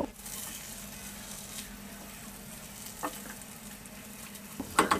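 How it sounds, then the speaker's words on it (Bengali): Rice frying with hilsa fish gravy and spices on low heat, a quiet continuous sizzle with a few soft stirring scrapes and brief clinks at the end. "এবার মশলাটা চালের সাথে ভালো করে মিশিয়ে নিয়ে লো হিটে 2 থেকে 3 মিনিট ভেজে নিব"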